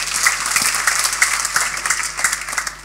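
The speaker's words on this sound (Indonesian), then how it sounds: "Beri tepuk tangan, saudara." A church congregation breaks into applause mid-sermon, a bright, sustained patter of many hands with a few sharper claps standing out, steady throughout.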